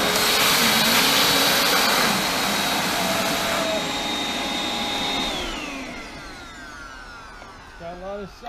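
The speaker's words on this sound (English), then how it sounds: "This is top of the line vacuum." A Hoover Elite Max vacuum cleaner runs with a loud, steady whine and roar that winds down toward the end, leaving faint squeaks and noises, with no talking over it.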